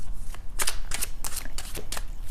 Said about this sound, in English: I am shuffling the cards